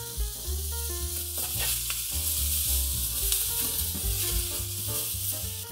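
Food sizzling in a hot pan as it is tossed with soy sauce, a continuous bright hiss and crackle running under steady background music, with no talking.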